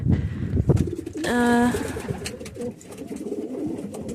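Pigeons cooing in breeding pens, with one clear, close coo standing out over softer rustling, shuffling and faint bird sounds around it.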